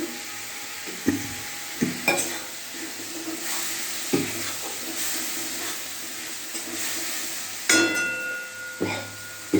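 Cumin and coriander paste hisses steadily in a hot pan, with a close, continuous sizzle broken by occasional sharp scrapes and taps of stirring.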